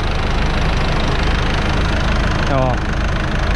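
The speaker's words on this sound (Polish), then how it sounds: "Muzyka z silnika, a nie z magnetofunu." A tractor engine idles at a spring ploughing session, a steady low mechanical rumble throughout. Voices speak over it and a brief tonal sound rises near the end.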